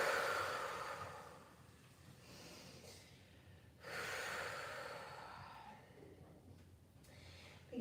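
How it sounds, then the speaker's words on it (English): Deep breathing during a yoga pose: slow, close, fairly quiet inhales and exhales, two long airy breaths rising and falling in a calm rhythm with no talking. "Take some deep breaths here."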